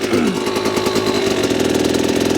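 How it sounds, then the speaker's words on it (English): A vehicle engine idles on a hill as the clutch is slowly let out, giving a steady loud rumble whose pitch sags slightly near the start, with no talking over it. "slowly let it out until you hear the engine RPM go down a little bit"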